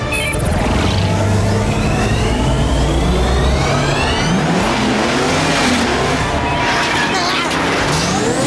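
A cartoonish car engine revs up and roars continuously at close range, with tires squealing as it accelerates, and voices chattering over it.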